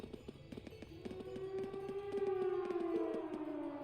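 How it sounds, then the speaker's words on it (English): A video game siren from a fort wails, rising slowly in pitch over a rapid, regular ticking pulse, moderately loud and sounding somewhat distant. "It sounds like a siren. Seems to be coming from the fort."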